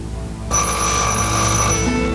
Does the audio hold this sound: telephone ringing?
yes